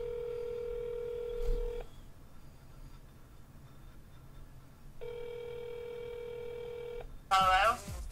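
A telephone dials out with two long electronic tone sequences separated by a quiet gap and a faint low hum, followed by a short burst of voice at the end.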